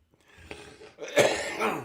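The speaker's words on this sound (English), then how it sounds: "The whole time I'm sitting here, I'm fighting off coughing" A single throaty cough bursts out, preceded by a softer throat-clearing sound, close and fairly quiet.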